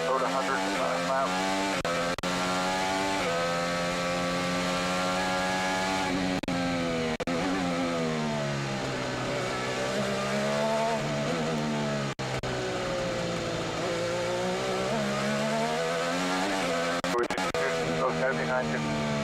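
IndyCar race car engine heard from an in-car camera during a race at Markham, a loud, constant high-revving drone that rises and falls with gear changes and speed. A voice talks over it at times.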